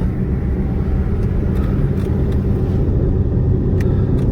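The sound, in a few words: 2001 Toyota Avalon rolling down the road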